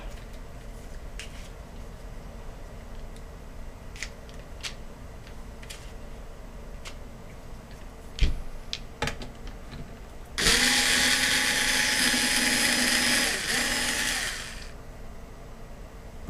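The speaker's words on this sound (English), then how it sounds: "I'm going to take out the screws and have a look inside." Small clicks and ticks of screws being worked free on an AcBel power supply from an Asus desktop, followed by a loud whirring burst of a powered screwdriver lasting several seconds, close and without talk.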